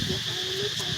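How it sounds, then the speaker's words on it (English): Cicadas buzz outdoors in Siem Reap, Cambodia, in a loud, steady, high-pitched drone that continues without a break. "if you hear the cicadas"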